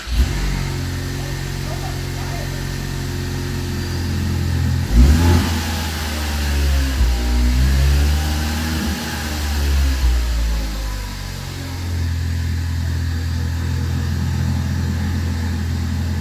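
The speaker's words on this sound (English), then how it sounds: "here's what it sounds like with the exhaust in." Ford Focus ST with an exhaust fitted, idling steadily and then revved a couple of times with a sharp rise and fall of engine note before settling back to idle, heard from close by outdoors.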